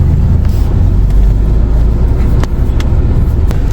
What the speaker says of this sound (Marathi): खूपच गर्दी आहे, खूपच ट्रॅफिक आहे.